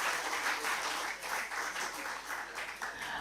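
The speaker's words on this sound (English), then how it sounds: "Please join me in giving them a well-deserved round of applause." Steady applause from an audience at a certificate ceremony as students receive plaques, sustained and dense clapping without pauses throughout.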